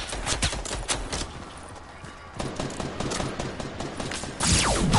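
Rapid, loud gunfire in the Call of Duty WW2 video game, with dense bursts of shots crackling back to back throughout, and a heavier burst near the end.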